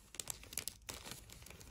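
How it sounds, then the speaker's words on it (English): A used swab goes into a plastic waste bag, giving soft, close crinkling and rustling in quick irregular bursts, quiet overall with no talk. "Now you can put the swab in the waste plastic bag."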